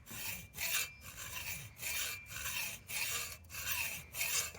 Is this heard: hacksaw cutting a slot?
yes